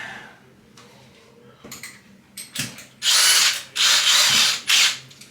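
A power drill whirs in three loud bursts, each a few seconds apart, after a few quieter clicks and knocks, drilling into ceramic tile.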